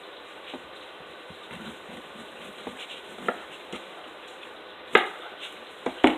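A knife slices scallions on a cutting board, a few sparse soft taps at first and then sharper, louder chops near the end, close and with no talk.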